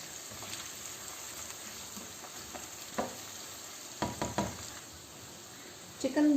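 Chicken pieces sizzle steadily in hot oil over medium-low heat for chicken Manchurian, with a few sharp clatters of stirring and a louder burst of sizzling and scraping near the end.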